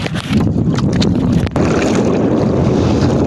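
Strong wind buffets the microphone in a loud, continuous low roar, with gusty rumbling throughout and a faint sense of open water, out on the sea near Ubay Island.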